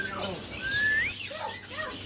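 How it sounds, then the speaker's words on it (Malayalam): Birds at a bird market chirp and whistle in short rising calls, fairly close, with a steady crowd murmur underneath. "പിന്നെ കുറേ കിളികളെ പുറത്ത് നിർത്തിയിട്ടുണ്ട്"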